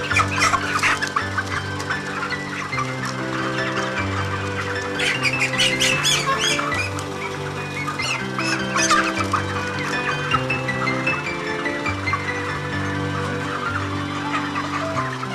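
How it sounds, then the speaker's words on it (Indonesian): Many broiler chickens squawk and cluck loudly and continuously as they are caught for weighing, with flurries of agitated calls rising and falling over a dense, busy flock. "kita menangkap ayam yang akan ditimbang secara acak"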